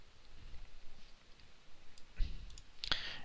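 A computer mouse clicks in a quiet room, with a sharp click partway through and another crisp click shortly after over faint background noise.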